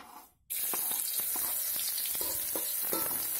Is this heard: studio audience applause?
no